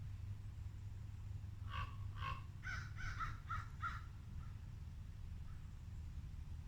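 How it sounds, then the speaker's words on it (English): A run of harsh crow and raven caws, about six in quick succession, sounds from a short distance outside an abandoned asylum over a low background rumble, then fades. "Got a bunch of crows and ravens accompanying me."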